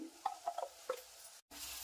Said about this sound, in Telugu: అల్లం వెల్లుల్లి పేస్ట్ వేసుకుని పచ్చివాసన పోయే వరకు ఫ్రై చేసుకోవాలి ఫ్రై అవుతూ ఉంటుంది